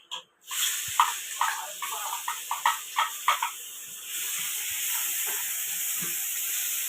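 Mustard seeds crackle and pop in hot oil with a run of sharp, irregular bursts, then onions go into the pan and settle into a steady, close sizzle and hiss with no talking.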